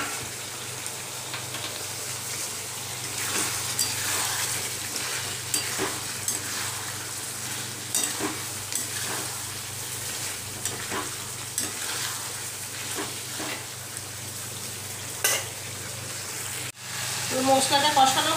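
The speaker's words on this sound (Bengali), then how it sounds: "এবার চিংড়ি মাছগুলো দিয়ে একটুখানি কষিয়ে নেব।" Shrimp sautéing in a spice masala in a pan, part of a potol-chingri dish, with a steady sizzle and repeated scrapes of stirring throughout and no one speaking.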